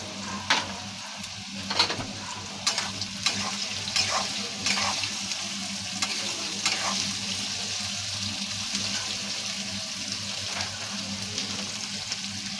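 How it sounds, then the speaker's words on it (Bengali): Potatoes frying in oil seasoned with a little turmeric, a steady close sizzle with occasional clicks and scrapes of stirring, no talking. "এবার আমি আলু ভাজা ভাজবো তেলে একটু সামান্য হলুদ দিয়ে দিয়েছি আমি আলুগুলো ছেড়ে দিয়েছি"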